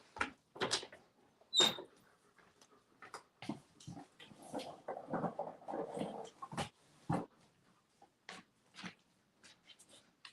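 A dog with hip dysplasia moves around indoors, giving short scattered bursts of whimpers, snuffles and scuffling close by, with brief quiet gaps between them.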